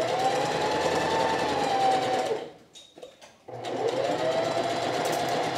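Sewing machine stitching a dart on a dress, running in a steady fast whir close by, pausing briefly for a couple of short stitches, then resuming its continuous hum.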